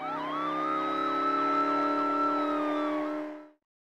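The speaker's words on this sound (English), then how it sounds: "Yes, Policewoman Nutsy goes with the police car." A police car siren in a 1999 PC preschool game wails in repeated rising and falling sweeps, loud and steady, then cuts off abruptly near the end.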